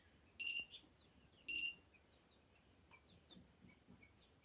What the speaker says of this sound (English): What's that noise? Sounds like a bird.